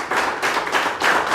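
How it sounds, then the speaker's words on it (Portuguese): A church congregation applauding during a worship service, a dense, continuous wash of clapping with three swelling surges, loud and close, no voices standing out. "Quem crê pode aplaudir e glorificar"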